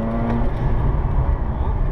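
A Mazda RX8 on a training track, its engine droning loud and close in a steady roar with slight tyre noise as it brakes and drifts, with no talk over it.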